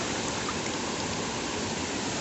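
Steady broadband rush of a waterfall and stream at Cachoeira de Macacu, continuous and close, with no voices over it.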